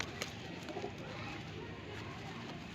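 A young Saharanpur-breed pet pigeon coos softly and faintly against a quiet background, a few low murmuring calls across a brief stretch.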